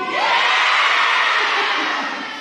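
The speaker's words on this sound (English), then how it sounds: "I can hear the roaring crowd." A large crowd roars and cheers at a concert, a dense wall of shouting voices that holds strong and then starts to fade slightly toward the end.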